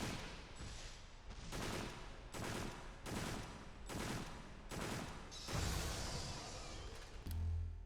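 Gunfire in a video game about exterminating an infestation comes as about six loud, rapid bursts separated by short gaps, each a dense rattle of shots, with a brief heavier blast near the end.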